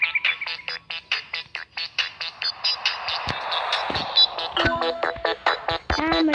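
A telephone in The Sims 3 rings repeatedly in short, bright electronic bursts alongside chirpy game sounds and music, with no talking.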